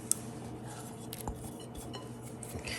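Quiet clinks and scrapes of a utensil against a bowl while quiche filling seasoned with nutmeg is mixed, with light, irregular taps close by and no talking.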